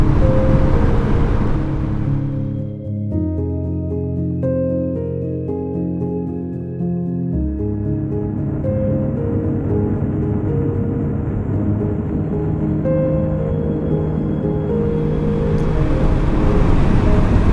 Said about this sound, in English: Riding a Vespa scooter